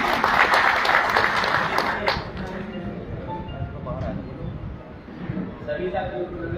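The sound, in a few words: audience applause welcoming the doctor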